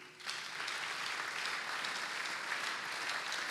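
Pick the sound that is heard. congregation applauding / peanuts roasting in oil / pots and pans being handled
congregation applauding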